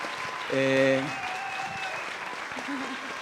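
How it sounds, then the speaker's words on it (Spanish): An audience applauds the guests at a discussion event about a documentary. The clapping is faint and diffuse, with voices speaking over it. "es un aplauso para los invitados"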